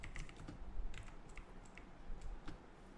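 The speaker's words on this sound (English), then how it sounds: "I'm just typing over here again" Steady, fast clatter of typing on a computer keyboard, keys tapping close and continuous for several seconds with no voices.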